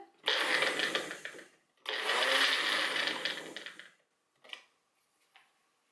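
A Magic Bullet blender pulsing garlic: two loud whirring motor bursts of a second or two each, followed by a short weak buzz and then a faint one, close by.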